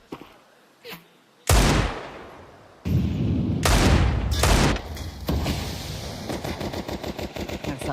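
AK rifle fire in the Counter-Strike video game, loud close bursts and a rapid rattling volley of shots, with quieter scattered pops and game sounds between.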